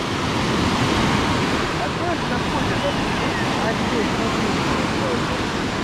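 Stormy sea surf crashing onto the beach at Anapa, a steady loud roar of breaking waves with heavy wind buffeting the microphone throughout, no pauses.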